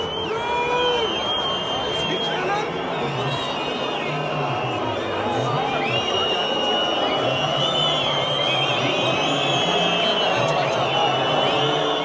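A large street crowd booing outside a hotel entrance where reporters have gathered, a continuous dense mass of voices rising and falling at moderate distance without pause.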